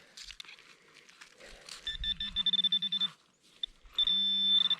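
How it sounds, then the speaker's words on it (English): A metal detector gives a mid-tone signal over a buried target, a piece of harmonica reed, at a cabin site near Spruce Knob, West Virginia. Two steady warbling beeps of about a second each stand out over faint rustling. "It's not real high on my detector, but it's mid-tone."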